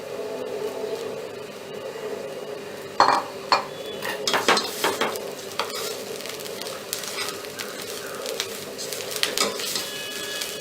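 Grated coconut and rice being stir-fried together in a pan, with a soft steady sizzle under a run of scraping and clinking spatula strokes that begin partway through, close and moderately loud, no speech.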